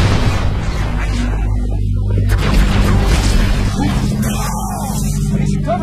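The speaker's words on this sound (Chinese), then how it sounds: "电浆手雷滚不远" A plasma grenade goes off in the video game Halo: Reach, a deep, loud boom set in rumbling noise and game sounds.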